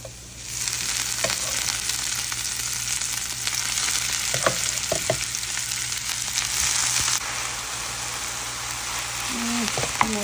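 Mixed leafy greens fry with dried red chillies in a constant loud sizzle, with occasional clinks of stirring and a voice speaking softly now and then.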